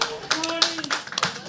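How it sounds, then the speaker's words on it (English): Audience clapping at a Teamfight Tactics esports tournament, with scattered sharp hand claps over a few seconds, mixed with faint voices and a brief tonal note in the background. "People clap."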